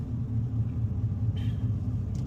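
Car driving along State Street in Bristol, Tennessee, heard from inside as a steady low engine and road rumble throughout, with no talking.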